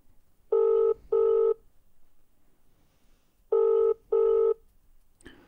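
Outgoing telephone call ringing back in two double-burst rings separated by a pause, clear and steady, followed by a faint click at the end.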